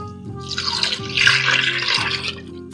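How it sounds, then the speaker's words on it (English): Homogenized milk poured into a pot of rehydrated salt cod (bacalhau) over medium heat, a steady liquid splash and gurgle running continuously for about three seconds, close and fairly loud, with no talking. "The bacalhau, I'm going to add 4 cups of homogenized milk"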